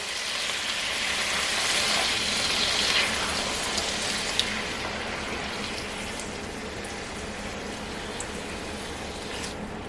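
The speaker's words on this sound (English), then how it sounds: "you want to deglaze your pot with 1 cup of red wine" A cup of red cooking wine poured into a hot pot coated with tomato paste for a pot roast sets off a steady, broad hissing sizzle that holds fairly loud and even throughout, with no voices.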